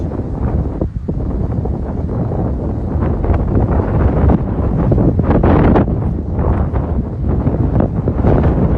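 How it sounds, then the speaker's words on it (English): Steady, loud wind buffets the microphone on an outdoor golf course, a continuous rushing roar with gusty swells and no clear talk over it. "Should I wait till the wind stops?"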